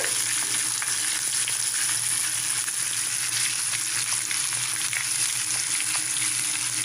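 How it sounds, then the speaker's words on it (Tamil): Chopped onions sauté in a pan for Tamil-style idli upma, giving a steady, close, even sizzle that holds without pause throughout, with no talking. "அந்த வெங்காயத்தை இப்போ நம்ம சேர்த்து நல்லா வதக்கி எடுத்துக்கலாங்க"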